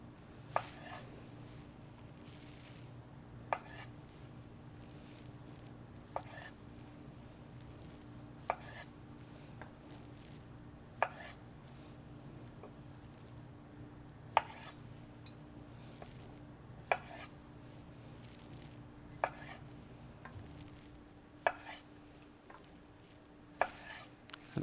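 Knife slicing grapes on a cutting board for Waldorf chicken salad: sharp, evenly spaced taps every few seconds, fairly faint and close, over a quiet steady kitchen hum.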